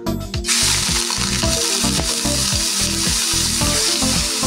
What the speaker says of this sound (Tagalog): Toasted ko muna yung ating chicken.